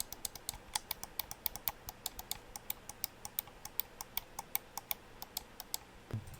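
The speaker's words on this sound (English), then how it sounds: "These are the side buttons as well." Side buttons on a Vancer Thrash gaming mouse clicked over and over in a fast, uneven run of crisp, close plastic clicks with no talking.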